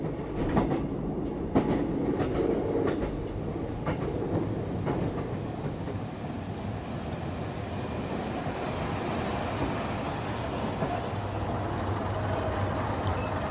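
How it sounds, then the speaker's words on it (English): A coal train with a K1 mogul steam locomotive rumbles steadily at Corbridge, a continuous low mechanical roar with faint clanks and clicks, no voices. "At Corbridge, we see a coal train awaiting the road behind a K1 mogul"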